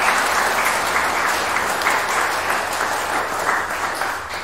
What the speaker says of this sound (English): we will also acknowledge the staff with your applause firstly